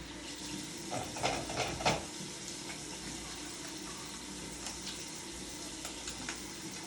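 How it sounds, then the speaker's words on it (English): Hands being washed under a running tap during an isolation procedure, the water a steady, close rush throughout with a few faint clinks near the start. "wash your hands for 20 seconds"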